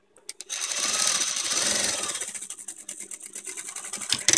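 Home sewing machine stitching a child's fleece blanket, a steady whirring run of roughly three seconds after a couple of short taps, then slowing into scattered clicks near the end, close and moderately loud.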